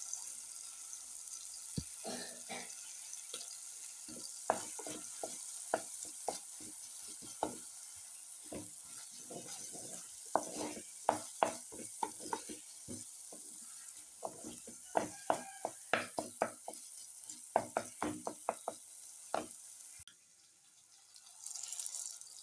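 Chili powder and ground spices sautéing in a pan for a Tamil-style fish curry (meen kuzhambu), a steady sizzle broken by many sharp scraping and stirring clicks, close and fairly loud, ending in a brief quieter hiss.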